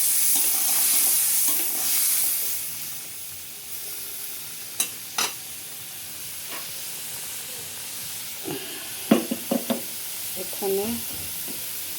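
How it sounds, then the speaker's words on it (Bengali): Chopped onion and garlic fry in a pan for a sweet pumpkin dish, giving off a steady, hissing sizzle. Occasional light clinks of a utensil and a brief spoken word sit over the sizzle. "কাটা পেঁয়াজ আর রসুন এটা দিয়ে দিলাম।"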